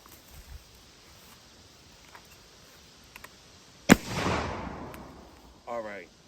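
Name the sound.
Belgian muzzleloading shotgun fired at clay targets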